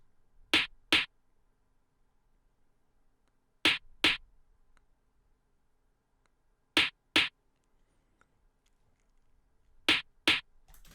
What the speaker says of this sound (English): Next up is the snare, and it sounds like this.